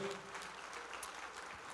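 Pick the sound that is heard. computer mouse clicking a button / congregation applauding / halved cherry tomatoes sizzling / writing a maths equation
congregation applauding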